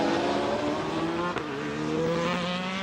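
Two Ferrari GT race cars at Adria Raceway passing close together, high engine notes layered and climbing, with a sharp gear-change blip midway and the roar staying loud and near throughout.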